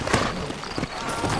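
Horse hooves clip-clop at a steady walking pace in the Red Dead Redemption video game, an irregular string of close hoof strikes on hard ground set over a constant background bed.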